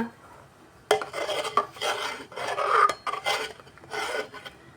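A utensil scrapes and rasps against a pot as hot jaggery is stirred to melt it with rice, cashews and raisins, in uneven close strokes with brief pauses and no voices.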